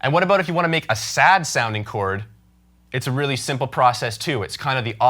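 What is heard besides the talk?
No distinct noise like a dog, phone or traffic.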